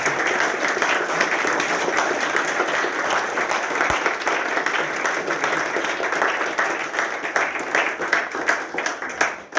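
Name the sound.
audience applause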